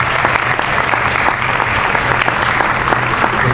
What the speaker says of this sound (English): If we could all give her another round of applause,